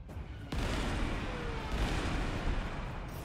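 Artillery bombardment in the Panzer Corps 2 war strategy game during the assault on Sevastopol: one sharp heavy blast followed by a sustained rumbling roar of fire and explosions, with no talk.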